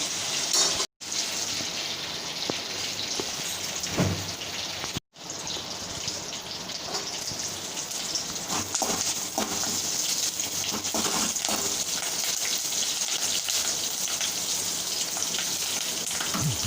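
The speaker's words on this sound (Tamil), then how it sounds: "நல்லா வதக்கி விட்டுடுங்க இந்த உள்ளி நல்லா வதங்கணும்" Onions sizzle in a hot pan, a steady crackling hiss close by, interrupted by two brief silences near the start.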